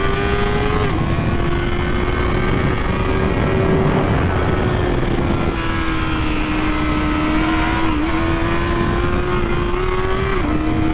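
A 2024 Kawasaki Ninja ZX4RR 400 sport bike on a race track, its high-revving engine screaming continuously and loud up close, pitch holding high with brief dips at gear shifts.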